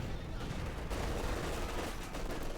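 Dense gunfire and mortar blasts from the real-time strategy game Company of Heroes 2 roll on continuously, a thick rumbling barrage of overlapping shots and explosions with no break.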